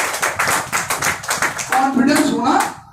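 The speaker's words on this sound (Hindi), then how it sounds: "जोरदार ताली" An audience at a sales training session clapping loudly in rhythmic bursts, with a voice talking over the end.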